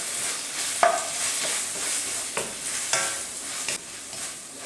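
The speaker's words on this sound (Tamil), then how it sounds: "இஞ்சி பூண்டு விழுது சேர்த்துட்டு நல்லா வதக்கிடலாம்." Onion, tomato and ginger-garlic paste sautéing in a pan, with a soft steady sizzle broken by several scraping stirs of a spoon at an irregular pace, close and fairly quiet.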